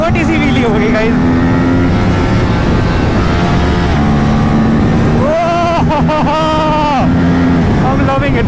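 An Aprilia RS457 motorcycle engine revs up during a small wheelie on a city road, a loud, steady drone with rising and falling pitch and passing traffic mixed in, while a rider's voice is faintly present.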